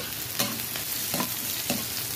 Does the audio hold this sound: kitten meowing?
no